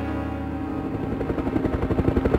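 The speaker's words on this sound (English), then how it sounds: "Helicopter!" Helicopter in the PlayStation game Resident Evil Survivor, a rotor chop that builds out of a low hum into fast, loud, regular thumping pulses over a couple of seconds, with no voices.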